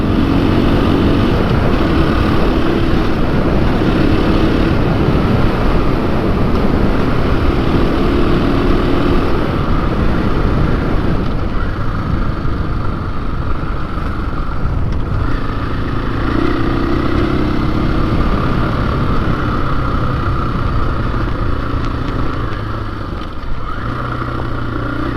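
A motorcycle being ridden at speed roars loudly and continuously, its engine note rising and falling with gear changes over heavy wind rush, no voices.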